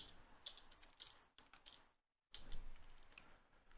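Soft typing on a computer keyboard, quick light key taps in two short bursts separated by a brief silent gap, heard up close and fairly quiet.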